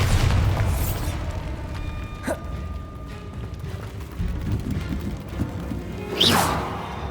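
Bombarda spell blasts in the Hogwarts Legacy video game: a few booming bursts with crackling debris, the loudest near the end, over a steady rumbling game soundtrack.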